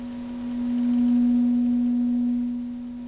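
A steady low electronic sine tone hums continuously, swelling slightly louder in the middle before easing back, with no other sounds.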